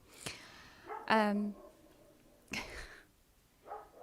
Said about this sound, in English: can you please ask him to stop barking?